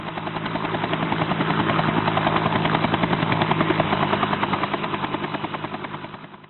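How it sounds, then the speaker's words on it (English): An Airbus helicopter's steady rotor thump and engine whine, loud and sustained, swelling slightly then fading toward the end. "The specified helicopter is an Airbus"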